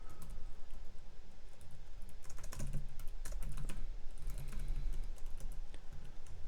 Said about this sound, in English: So I'm just going to type in the details of the server.